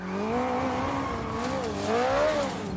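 A suburban car's engine revs hard and steadily, rising and falling in pitch as the wheels spin while the car sits stuck and sinking in sand; loud and close, with no talk.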